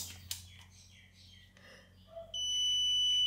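Soft handling noises and faint clicks, then a multimeter's sustained high-pitched continuity beep starts and holds steadily to the end, testing an electric water heater.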